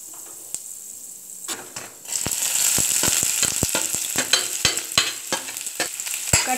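Mustard seeds, chana dal and urad dal dropped into well-heated oil, with a quiet lead-in before a loud close sizzle breaks out, dotted with sharp crackles and pops from the seeds spluttering.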